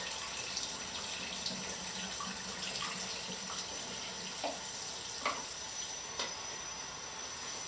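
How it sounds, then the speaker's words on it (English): Steady running water pouring from a tap into a bottle for home E6 slide film developing, a continuous broadband rush with a few small splashes and clinks, fairly close. "And fill it up with water."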